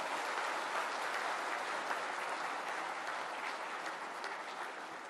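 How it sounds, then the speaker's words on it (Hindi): Audience applause at the launch event for GARV-II held by Rural Electrification Corporation Limited, dense steady clapping from a sizeable crowd filling the room throughout and fading slightly toward the end, with no talk over it. "तो एक बार फिर से मैं चाहता हूं एक बार इन जीवीएस के लिए जोरदार तालियां"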